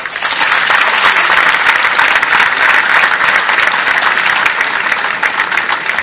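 Loud, sustained applause from a large crowd at a political event in Ahmedabad, a dense, steady wash of clapping filling the whole stretch without a break.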